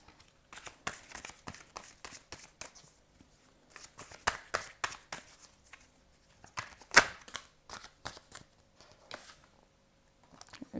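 Tarot cards are shuffled close up in soft, fast riffling bursts and light slaps, one sharper snap partway through, with no one talking over the quiet papery patter.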